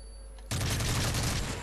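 A burst of rapid gunfire from the video game Modern Warfare 3 breaks in suddenly after a quiet start and continues as a dense, loud volley for over a second.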